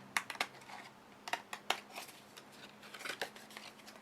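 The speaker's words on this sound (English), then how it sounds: "now I will take my scissors and trim off those pieces" Scissors snip through paper card pieces in short, crisp cuts, a few quick clusters with pauses between, close and fairly quiet.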